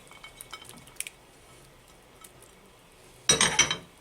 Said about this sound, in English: I'm going to drop in the garlic